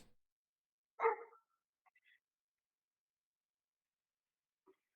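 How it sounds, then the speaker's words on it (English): A dog gives one short bark in the background, quiet and somewhat distant, followed by a couple of faint yips in otherwise near silence. "Sorry about the dogs barking,"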